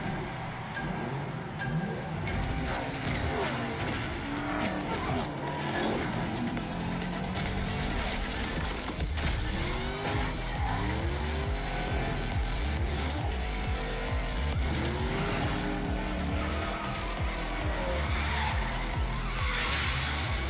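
Race cars in a Rocket Racing video game trailer, with engines roaring and whooshing past, tires squealing, and music behind them, loud and busy throughout.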